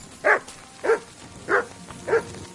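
Dog barking in the video game Kingdom Come Deliverance 2, four evenly spaced single barks about half a second apart, fairly close and clear over a quiet background.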